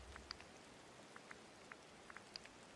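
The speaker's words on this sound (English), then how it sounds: "And I hate that it's raining in my game." Rain falling in the video game Disney Dreamlight Valley, a soft, steady patter with scattered individual drops tapping, faint and continuous, with no talking.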